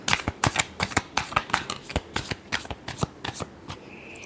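Tarot cards being shuffled by hand, a fast run of crisp riffling snaps repeating steadily throughout, close and clear with no voices.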